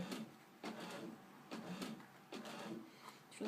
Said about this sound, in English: Gosh, printer, get done already.